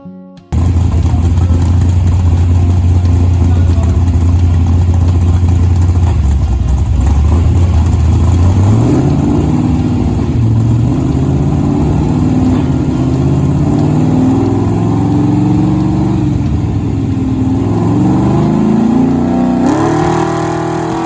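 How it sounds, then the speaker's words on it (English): A 1000 hp small-block Ford engine in a 3,500-pound car roars on a dyno, loud and close, settling from a steady low drone into rising, climbing revs with harmonics sweeping upward throughout. "we were able to finally take the car to a dyno and dyno the new engine."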